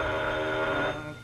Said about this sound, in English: Confound that phone.